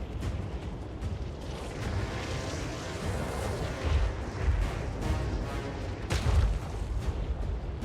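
Arachnaroc spider artillery units fire in the video game Total War Warhammer 3, with repeated muffled booms and a thick rumbling battle wash, fairly quiet and distant, two stronger bursts near the end.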